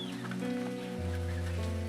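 Rooster and hen clucking in a henhouse, a short burst of close clucking calls over a continuous low droning background.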